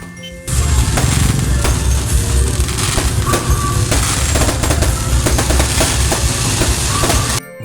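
Dense, rapid crackling bursts of fireworks pop continuously and loudly for several seconds at an outdoor Christmas park celebration in the Philippines, then stop abruptly.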